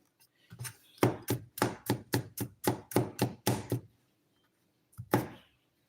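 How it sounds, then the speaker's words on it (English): Knife chopping food on a cutting board in a home kitchen, about a dozen crisp evenly spaced chops in a quick rhythm, then a pause and two final strokes, close and clear with no talking. "So now we have finished chopping this."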